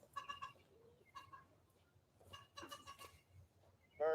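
Chickens clucking outdoors in scattered bursts, fairly faint and at moderate distance, with a louder close call at the end.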